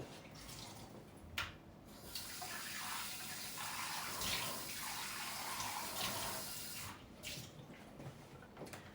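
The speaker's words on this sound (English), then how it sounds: "So I will rinse this again." Paper being rinsed under a running tap, a steady splashing rush of water with brief breaks and changes as the sheet moves through the stream, close and moderately quiet.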